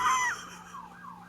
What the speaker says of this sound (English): That's the loudest sirens I've heard since I've been in college down here.